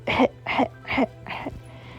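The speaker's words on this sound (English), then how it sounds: "And he began to have a coughing fit." Four harsh, throaty coughs in quick succession, each a short rasping burst, close by with a faint hum underneath.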